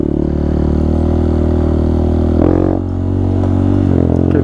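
A Honda Grom motorbike engine runs steadily while greenlaning, loud and close, with a continuous droning hum and a couple of brief rises in revs.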